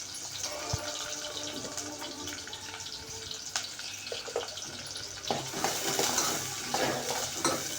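Onions and slit green chillies frying in a pan for semiya upma: continuous crackling sizzle with occasional stirring clinks and scrapes, steady and close.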